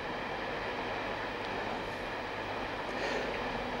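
A steady, unbroken rumble of a moving train, heard from inside a passenger compartment, with a dense low roar and faint rattles riding over the constant noise.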